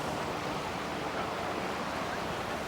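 Water running down a stream channel beside banana and coconut trees in Bali, a steady dense rushing wash that stays even and close throughout with no pauses.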